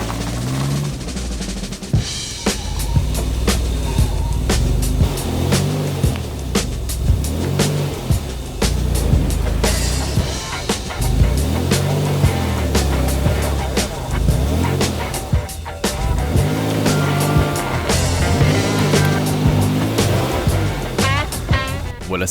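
A Maserati Biturbo's engine revs hard and steadily while reversing and stuck in mud, wheels churning and slipping with loud, continuous roaring and spattering close by.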